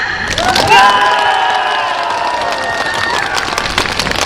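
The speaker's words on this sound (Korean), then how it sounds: "박수하고 소리를 그냥 마음껏 지르세요" At an outdoor folk festival concert, a crowd claps and shouts freely on cue, with dense clapping, whistles and rising cheers close by that stay strong throughout.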